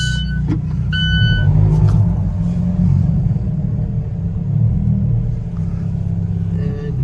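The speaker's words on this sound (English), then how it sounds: "See the car backing up just fine." An Alfa Romeo 4C sports car engine rumbles low and steady while the car moves slowly backward, with a couple of brief beeps early on and no voices.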